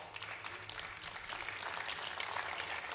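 A conference-hall audience at a tech talk gives a brief burst of scattered, moderately distant applause, a steady patter of many hands.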